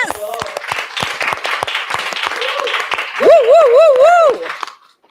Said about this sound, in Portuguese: Aplauso, minha mãe!